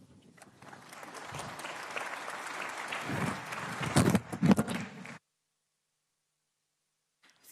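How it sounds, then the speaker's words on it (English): Audience applause for a panel at a NATO Summit defence industry forum: broad, steady clapping that swells to a few louder bursts, then cuts off abruptly into silence. "Thank you so much to Jenna and her panelists. Another round of applause"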